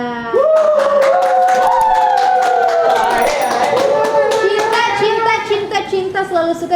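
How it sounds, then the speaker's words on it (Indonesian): Children's excited voices rise over scattered hand clapping in a lively room, the chatter and shouting staying loud and continuous with brief claps poking through. "Cinta selalu suka dengan tepukan-tepukan riuh itu ya, saudara-saudara."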